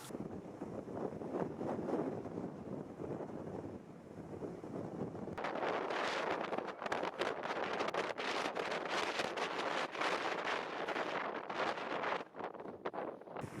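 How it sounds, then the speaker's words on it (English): Strong wind roars across the microphone at a wild camping spot, buffeting steadily and growing louder and harsher halfway through, with gusty rushing and no clear talk. "It's very windy."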